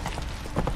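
Horse hooves clip-clop on the ground in The Witcher 3, a quick run of soft, evenly spaced thuds close by, brief and steady with no talk over them.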